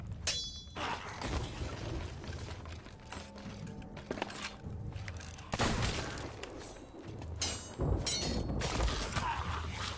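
Bursts of rapid gunfire and booming impacts crackle through a dense Last Zone game soundscape, with fire aimed at a boat and mechanical clanks between volleys.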